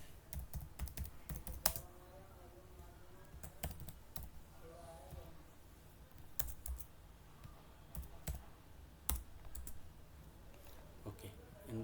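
Keys clatter in bursts of typing on a computer keyboard as code is entered, with quick clustered clicks and short pauses against a faint background hum, while a voice speaks intermittently.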